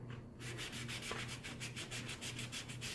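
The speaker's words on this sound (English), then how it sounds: "I just sponge it so that it catches on the ridges" A sponge dabs paint onto a ridged, textured surface in a quick, even series of soft rubbing swishes, close and faint, with no voice.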